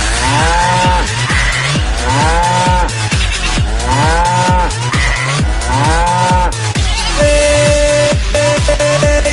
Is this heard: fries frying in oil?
no